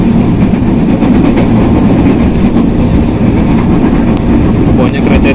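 A Commuterline train rolls past at Manggarai station, a loud, continuous rumble with rattling wheels close by. Voices talk underneath throughout.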